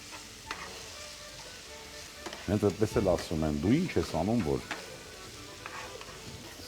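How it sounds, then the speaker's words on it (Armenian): Chicken pieces frying together with onion in a pan while being stirred, a steady soft sizzle running throughout, with a person speaking over it in the middle. "սոխի հետ միասին ճուտիկը տապակվում է"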